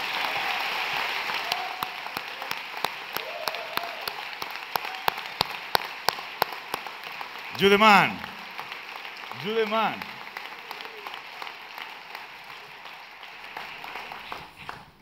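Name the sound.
applause for Asier Echeandía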